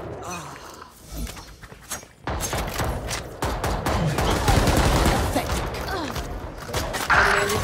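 Gunfire in the Valorant shooter game, a burst of shots rising from about two seconds and carrying on loud and dense to the end, with faint game sounds before it.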